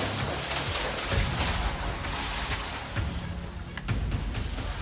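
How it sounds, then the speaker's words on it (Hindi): Torrential monsoon downpour in Amravati, Maharashtra, a dense continuous hiss of heavy rain hammering surfaces, loud and steady throughout with a few sharper splashes and no clear talking. "मूसलाधार बारिश महाराष्ट्र में किस कदर आफत बरसा रही है"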